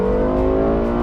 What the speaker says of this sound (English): I love the sound of the LFA.